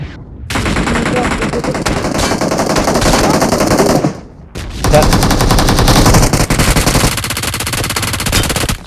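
Loud automatic gunfire in the mobile game PUBG Mobile, two long rapid bursts of machine-gun fire separated by a short gap, close and dominant.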